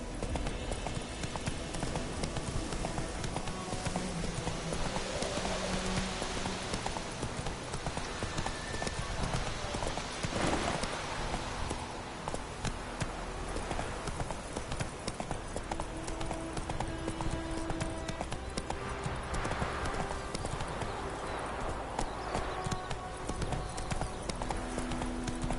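Horse galloping in Witcher 3, a steady, busy clip-clop of hooves running continuously throughout over game ambience, with a brief whinny-like sound mixed in.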